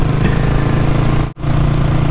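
A CAFE400 motorcycle climbs a steep uphill on the Baguio expressway in 4th gear. Its engine holds a steady, loud, close drone, with one brief dropout partway through.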